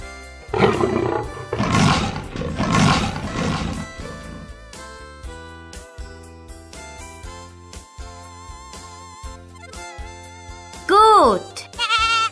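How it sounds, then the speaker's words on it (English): Cartoon tiger roaring in a children's animal-names lesson: several loud, rough roars in the first few seconds over light background music, followed later by a brief bleat. "Tiger."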